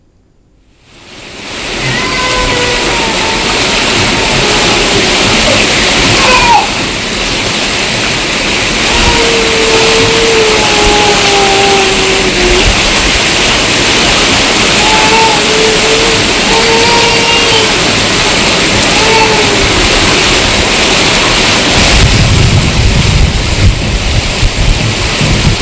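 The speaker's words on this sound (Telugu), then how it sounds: "రామ్దాస్ చౌరస్తా నుంచి కొత్త బస్టాండ్ వరకు రోడ్డుపై వరద నీరు ప్రవహిస్తుంది" Floodwater pours across a road in Medak during heavy rain, a loud, dense rushing wash that swells in after a quiet start and runs on steadily, with faint warbling tones drifting over it.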